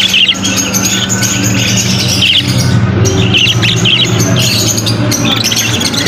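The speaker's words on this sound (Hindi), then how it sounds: "इस तरफ तोते हैं, इस तरफ कबूतर है।" Parrots and pigeons call together in a loud, busy mix of squawks and chirps, repeated bursts of shrill calls over a constant low background hum, with no talk.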